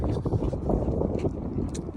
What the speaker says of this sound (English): It's windy, cold.